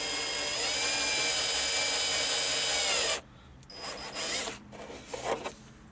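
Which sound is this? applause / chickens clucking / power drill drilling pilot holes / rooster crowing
power drill drilling pilot holes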